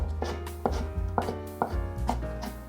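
A knife shreds stacked carrot slices on a cutting board: about seven crisp, evenly spaced chops land close and clear, with no voices.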